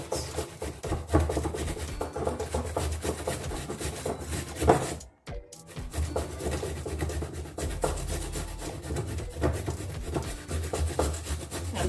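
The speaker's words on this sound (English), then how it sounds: "I'm grating the carrots." Carrots are scraped against a kitchen grater in a fast, continuous rasping rhythm, close and fairly quiet, with one short pause midway.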